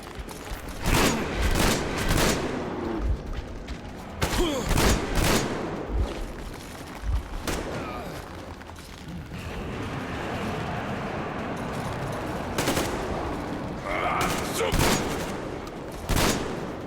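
Video game gunfire rips through a fight with mutants in Metro Exodus, with loud close bursts of automatic shots and single cracks repeating across the scene over a rumbling background, and voices shouting at moments.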